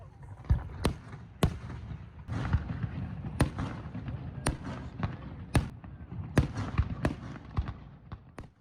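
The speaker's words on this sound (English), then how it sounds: "we headed back down to Water Street to catch an amazing fireworks show" Fireworks over Water Street in St. Andrews, New Brunswick, pop and crack repeatedly at irregular intervals, each sharp burst ringing out over a rumbling, crackling background, fairly distant.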